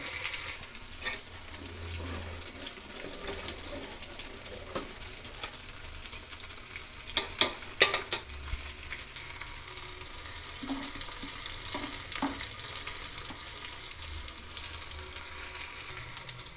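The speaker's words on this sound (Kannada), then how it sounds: "ಒಗ್ಗರಣೆ ರೆಡಿ ಆಯಿತು ನೋಡಿ ಎಲ್ಲ ಈ ರೀತಿ ಬಾಡಿಸ್ಬೇಕು ಈರುಳ್ಳಿ ಮತ್ತು ಕರಿಬೇವಿನ ಸೊಪ್ಪು" Onions and curry leaves fry in a pan with a steady, soft sizzle, broken by a few stirring clicks and scrapes. No one speaks.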